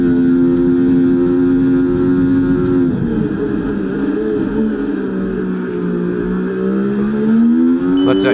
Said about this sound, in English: you can see that the engine will rev all the way up